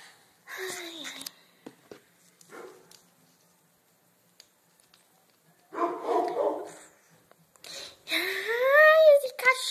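A small dog barks in three short, yappy bursts, with quiet gaps between them. A voice may be imitating the barks during doll play.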